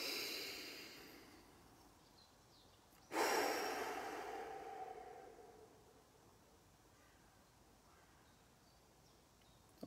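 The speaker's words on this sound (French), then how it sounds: "Et on respire profondément." A single deep breath, drawn in then slowly let out, sounds close and soft outdoors in a forest during a breathing exercise. A faint exhale follows at the very end.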